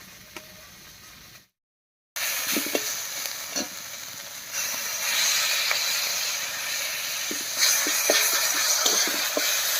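Onion and dried fish fry in a pan, a constant loud sizzling hiss with occasional scraping stirs, briefly silent near the start and then growing steadier and stronger.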